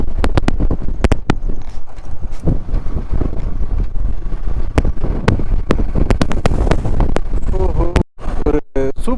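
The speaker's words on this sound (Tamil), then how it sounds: "காற்று செம காற்று அடிக்குது" Strong wind battering a microphone on a motorcycle ride through Sathyamangalam Tiger Reserve, a loud continuous rumble broken by sharp buffeting gusts, with someone speaking over it near the end.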